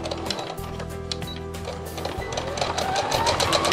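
A domestic sewing machine stitches fabric for a coffee cosy, a steady rapid mechanical whirring and ticking close by that runs continuously and speeds slightly toward the end as the seam is finished.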